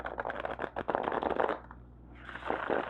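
A new, stiff laminated tarot oracle deck is shuffled close up in quick riffling bursts of papery flicks and slaps, followed by a brief pause and another short shuffle.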